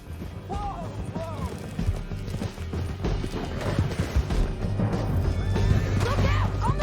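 Horse hooves galloping down a canyon in Red Dead Redemption 2, fast rhythmic thuds under game music and effects, with voices talking over them.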